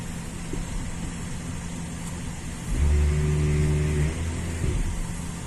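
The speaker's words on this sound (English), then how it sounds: "So you can hear it running the ABS pump motor" On a 2003 GMC Sierra 1500 4x4, the ABS pump motor kicks on partway through with a steady mid-pitched hum lasting about a second and a half over background engine idle, then stops.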